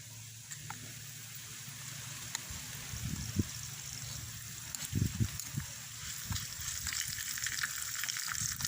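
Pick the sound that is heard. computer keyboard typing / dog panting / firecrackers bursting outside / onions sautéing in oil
onions sautéing in oil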